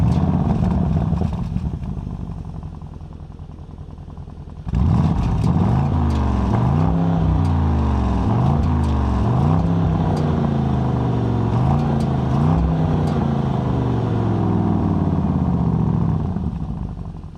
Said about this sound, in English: So I really love the way this V8 sounds.